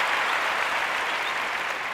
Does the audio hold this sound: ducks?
no